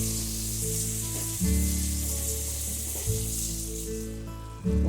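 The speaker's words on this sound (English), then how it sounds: "I add a cup of water in there," Hot water poured into frying tomato paste in a one-pan ground turkey pasta gives a steady close sizzle, with louder surges where the water hits the pan.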